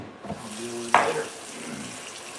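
Tap water running into a measuring cup for two cups in a home kitchen, a short steady stream with a brief splashy burst near the middle, close and moderately loud, with quiet kitchen noise around it.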